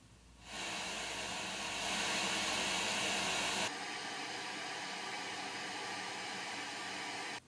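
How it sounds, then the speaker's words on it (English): Broadband white noise test signal from an oscillator used to calibrate studio monitors, a steady loud hiss that switches in tone partway through and runs until it cuts off at the end. "then we'll pop on the oscillator or white noise"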